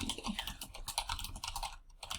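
Fingers tap quickly on a computer keyboard, a short run of close, crisp keystrokes with no talk.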